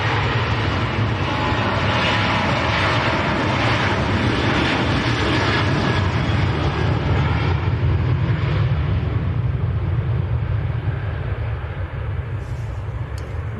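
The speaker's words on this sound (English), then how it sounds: "KLM to Amsterdam, 737" A KLM Boeing 737 takes off from Manchester Airport bound for Amsterdam, a heavy, continuous engine roar with deep rumble and hiss that holds steady and tapers off slightly at the end.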